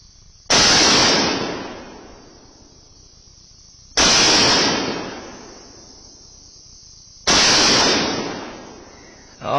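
Three loud rifle shots fired downrange at even intervals of about three and a half seconds, each a sharp crack followed by a long decaying echo, with no talking.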